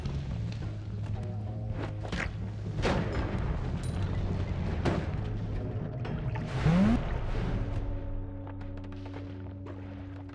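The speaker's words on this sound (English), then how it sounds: "Unnecessary bomb, watch it." A bomb going off in the video game Noita, one of several sharp booming impacts among soft game sounds, followed by a rising whistle and a low sustained hum.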